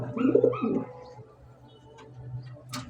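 A big Gopalganj pigeon coos in a couple of low, close, throaty notes at the start, then fades into quieter background with a faint sharp sound near the end.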